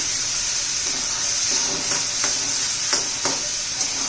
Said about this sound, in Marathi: ते पण आपल्याला तेलामध्ये चांगलं परतून घ्यायचं आहे कारण आपण ओलं खोबरं घातलं आहे न भाजता